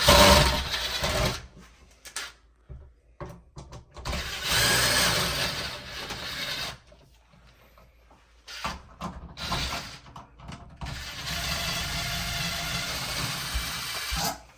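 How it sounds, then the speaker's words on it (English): A screw gun backs screws out of a household power outlet receptacle in short whirring bursts separated by quiet gaps, close and moderately loud, with a longer steady run near the end. "you can take a screwdriver or screw gun, take out the screws"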